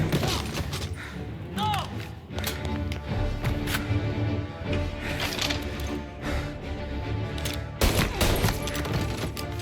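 A loud gunfight in Mafia: Definitive Edition, with dense, overlapping bursts of shots crackling almost continuously and a sharp, heavy blast near the end. A brief shout cuts in over the shooting.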